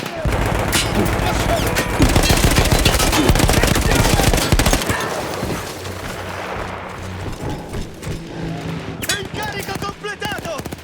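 A mounted machine gun in Battlefield 1 hammers out long, loud, continuous bursts at close range, then slows into scattered shots as voices shout over the noise.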